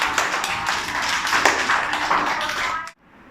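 Playgroup children clapping for a classmate in a classroom, a dense burst of many small hands slapping together for nearly three seconds before stopping abruptly.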